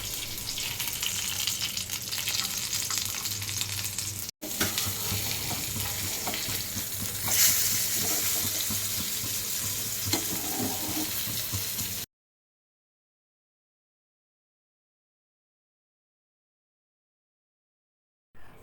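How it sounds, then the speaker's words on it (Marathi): Curry leaves fry in hot oil with a steady broadband sizzle and occasional stirring, loud and close for about twelve seconds before cutting to silence, with a brief noise at the very end. "तेलामध्ये कढीपत्ता टाकायचा, कढीपत्त्याची खूप छान टेस्ट येते"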